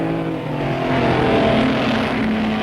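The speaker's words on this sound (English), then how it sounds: "the New Zealand champion Ross Jensen is approaching Murray's Corner" A vintage racing car roars steadily at the 1959 Bathurst 100 Easter race near Murray's Corner, its loud continuous engine drone holding throughout without talk.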